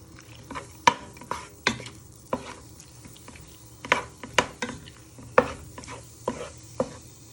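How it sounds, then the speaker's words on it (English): Raw chicken being broken apart with a wooden spoon in a pan for Thai green curry, with irregular scraping and tapping strokes against the pan over a faint sizzle. "So you're breaking apart your chicken. Just use a wooden spoon."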